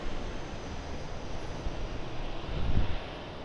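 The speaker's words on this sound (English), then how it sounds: "So here's QF1, our departure" A Qantas QF1 airliner departing Sydney Airport for Singapore roars as a broad, steady rumble heard from a distance, swelling slightly toward the end.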